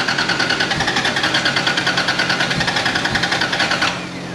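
Electric fuel pump running on a Mk3 Toyota Supra in a shop, a steady close whirring buzz with fast regular pulsing that cuts off near the end, leaving faint background noise.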